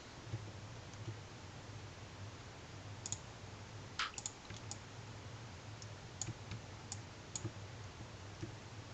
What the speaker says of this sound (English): I'm actually using just my mouse and my keyboard for this. So I'm clicking